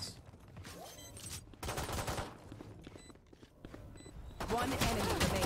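Gunfire rattles through a Valorant esports qualifier match, with rapid bursts of weapon shots and footsteps in the game mix while a commentator reacts excitedly over the action.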